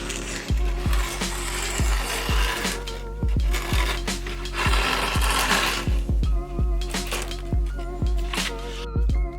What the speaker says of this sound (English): use those leftover pieces and file down the edge of the board even further